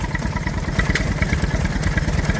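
A Petter stationary engine running at a show, giving a steady rapid mechanical chugging and clatter, close and fairly loud, with no talk.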